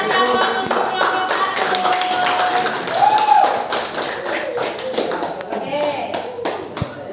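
Students in a classroom clap for group 1, a dense round of hand claps rising and then fading over several seconds, with a voice speaking briefly over the applause.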